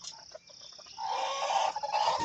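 Chickens cluck and squawk nearby, with short calls at first and then a louder, continuous chorus of clucking.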